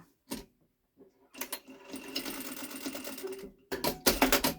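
A Sewmaq Q6 flatbed sewing machine making a test stitch: short bursts of rapid mechanical clatter and needle ticking, stopping and restarting, close and fairly loud.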